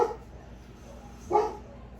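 A dog barks twice, once at the start and once more a little later, fairly close with quiet room noise between.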